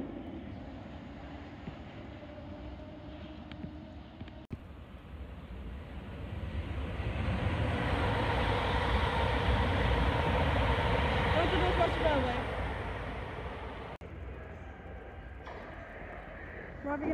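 A passenger train passes through Kensal Green station, its rumble swelling from a distant approach to a loud, broad roar at the platform before fading away again.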